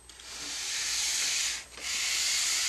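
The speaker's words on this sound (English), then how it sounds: "Simply take your sandpaper on a block so it stays flat on the base." Sandpaper wrapped on a flat block is rubbed hard along the base of a cross-country ski, giving a loud, close, continuous rasping hiss with one brief pause between strokes.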